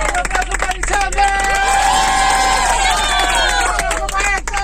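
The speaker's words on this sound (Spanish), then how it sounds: "¡Un aplauso para Isabel!" A group outdoors on a hiking and river outing claps and cheers, loud and close, with excited voices and whoops blending into the applause and some talk mixed in.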